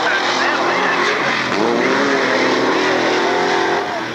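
Class 6 mud bog race trucks, a 4-liter against a 400-cubic-inch engine, roar and rev loudly and continuously at Lake Odessa, Michigan in 1994, while an announcer talks over the noise.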